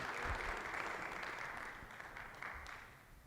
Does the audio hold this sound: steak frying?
no